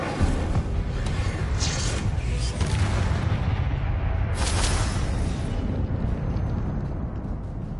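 The Incendio fire spell in the Hogwarts video game roars as a sustained, rumbling burst of flame with crackling surges and a brighter flare midway, loud and close, gradually easing off.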